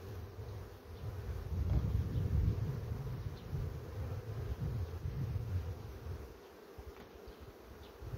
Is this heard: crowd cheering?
no